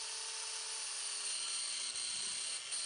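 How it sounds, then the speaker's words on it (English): An angle grinder fitted with a cutting wheel slices through the steel bands on WWII Jeep leaf springs, giving a steady, loud high-pitched whine that holds throughout with no talk. "I put a cutting wheel on my angle grinder, and I'm cutting the bands on each end"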